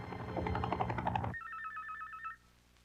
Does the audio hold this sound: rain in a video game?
no